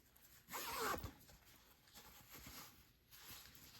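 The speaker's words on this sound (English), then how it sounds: "Now let's test it out. I'll zip it up and see how the top is going to look." A zipper being pulled closed on a handmade boho purse, one quick, close rasping zip followed by softer fabric rustling and handling noises, with no talking.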